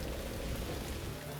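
Steady rain pours onto a ship's deck in the video game My Next Life As A Villainess, a dense, even hiss with a low rumble underneath, continuous and close, with no other sounds standing out.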